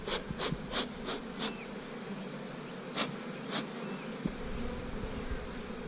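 Honey bees swarming around an open hive box while a super is added, a steady insect drone with several sharp close buzzing passes from individual bees flying near.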